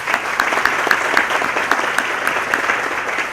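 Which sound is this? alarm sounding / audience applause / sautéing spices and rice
audience applause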